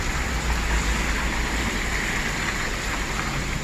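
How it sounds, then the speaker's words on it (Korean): Steady, dense hiss of rain falling during a ride on a custom Kawasaki Mirage 250, a continuous wash of noise with low rumble underneath, loud and unbroken throughout. "비가 내리고 있어."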